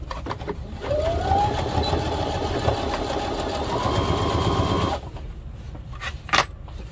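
A sewing machine runs steadily, stitching the fabric of a garden kneeling pad for about four seconds with a rising whine at the start, then stops abruptly, leaving quiet room noise and a brief clatter.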